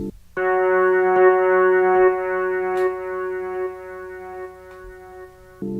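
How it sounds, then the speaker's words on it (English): A sustained synth note holds steady while faint echoing repeats trail behind it, ending abruptly before another tone starts. "there's also this little other synth that I added a bunch of delay on,"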